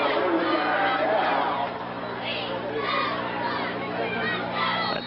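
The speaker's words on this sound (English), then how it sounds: "A decent crowd here tonight." A crowd fills the stands at a high school football game, a roaring mass of shouts and cheers with children's voices, loud at first then easing to a busy murmur as a commentator talks over it.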